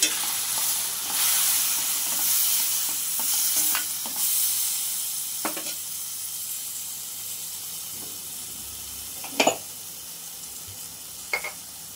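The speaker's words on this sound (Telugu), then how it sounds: "ఇప్పుడు టమాటా ప్యూరీని వేసేసుకొని ఉడికించుకోవాలి" Tomato puree sizzles and hisses in a hot pan while frying for a jackfruit seed curry, a steady close sizzle punctuated by a few sharp stirring clinks, with no talking.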